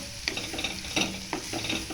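Green beans frying in a little oil while a spoon stirs them, a close crackling sizzle with several sharp scrapes against the pan.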